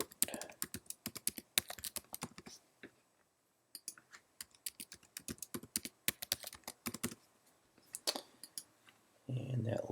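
A password is typed on a computer keyboard in quick bursts of close, crisp key clicks separated by short pauses, with a low rumble entering at the very end.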